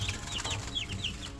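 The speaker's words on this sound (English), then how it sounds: "So this is actually our second batch of chickens right here." Chickens cluck and chirp softly in a barn, a second batch of birds with a few new ones among them, making short, scattered calls over a low, steady background.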